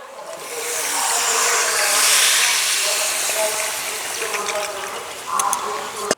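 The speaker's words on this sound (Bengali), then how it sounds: "এবার দিয়ে দেব গরম জল।" Hot water poured into a pan of sizzling chicken and potato curry, a loud rushing hiss of steam and liquid that swells and then fades, ending with a few clinks of a utensil at the pan.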